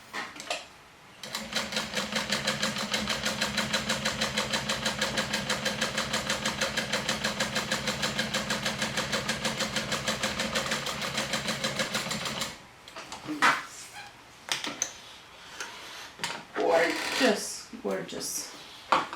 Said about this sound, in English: I'm going to top stitch with a 4 length and about 1/8 of an inch away.